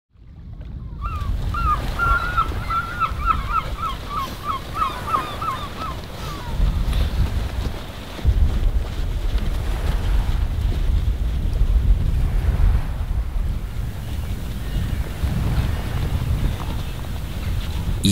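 Cutting sea wind buffets the microphone on a cold Baltic beach, a loud continuous roar with gusts and surf beneath, and a brief chirping sound near the start.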